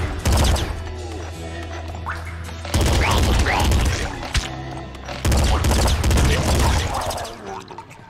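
Explosions and rapid gunfire from the video game Nuclear Throne, loud dense bursts of shots and booms in three heavy waves, close and continuous with short gaps between.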